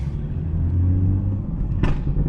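A loud car engine rumbles steadily at close range, with a low droning tone and a brief sharp burst of noise near the end.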